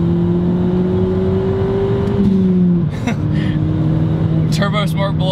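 A Stage 3 Ford Fiesta ST with a Turbosmart blow-off valve accelerates hard in second gear, the engine note rising steadily and loud from inside the car, then dipping briefly at a shift before pulling again.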